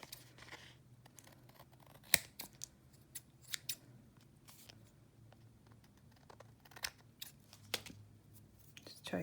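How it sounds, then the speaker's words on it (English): Scissors snip paper for a handmade book tag, with sharp, close, irregular cuts separated by quiet pauses and light paper handling. "Now we're gonna cut off any white that's showing from the other side."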